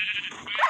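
A single short sheep bleat comes from the video game Minecraft, a brief nasal cry heard close and alone.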